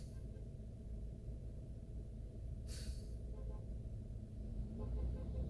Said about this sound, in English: That's a UPS truck behind me.